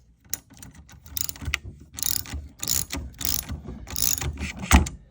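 A ratchet clicks in quick bursts while tightening a bolt on the suspension of a 1994–2004 Ford Mustang during a spring install, close and loud, with short pauses between strokes and no talk.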